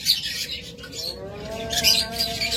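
Pet lovebirds and budgerigars chirp and tweet in a busy, overlapping chatter of short high calls, fairly close and steady throughout.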